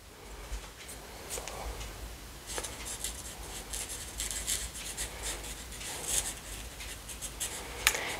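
Pen scratching across paper in short, irregular strokes, a soft close rasp that comes and goes steadily, with brief sharper scrapes and no talk.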